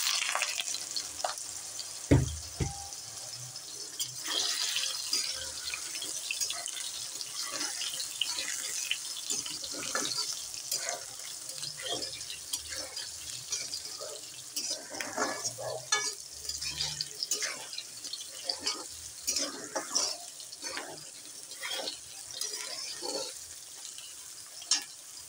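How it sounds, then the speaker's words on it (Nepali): Soybeans frying in a pan, a steady crackling sizzle with bursts of stirring and scraping, plus occasional clinks and knocks of utensils, close and continuous throughout. "अब म सोयाबिनलाई फ्राई गर्छु।"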